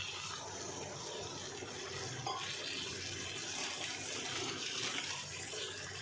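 Water pours into a pan for Maggi noodles, a steady splashing stream for several seconds that swells slightly toward the end, with no talking.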